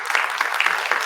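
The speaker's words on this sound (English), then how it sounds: "How about a round of applause for that?" A crowd claps at a women's education panel event, bright, closely packed applause throughout, fairly loud and steady with no speech on top.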